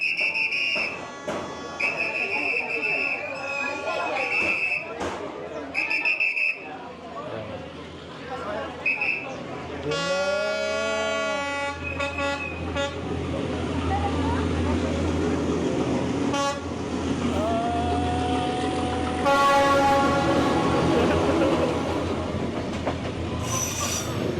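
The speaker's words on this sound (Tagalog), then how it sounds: "3 minutes na lang dadaan na yung train." A train rolls slowly through the narrow Hanoi Train Street, its wheels squealing in long tonal screeches, with horn toots and whistles near the start while people chatter nearby; the loud rumble builds as it passes close by.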